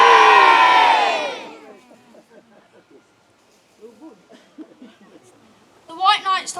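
Crowd cheering and yelling at a Robin Hood festival knight contest, a loud burst of shouting voices that fades within two seconds, followed by scattered quieter murmurs and chatter, then a short renewed shout at the end.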